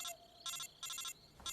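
Telephone ringing in the Metal Gear Solid 3 video game: electronic trilling rings in four regular bursts separated by short pauses, steady and clear with no talking.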